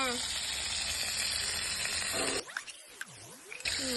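Tomato paste sizzles loudly in a hot pan while being sautéed for chicken ghee rice, a dense continuous crackle that briefly dips as the pan is stirred, then returns.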